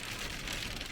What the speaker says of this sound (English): we're collecting hail on the windscreen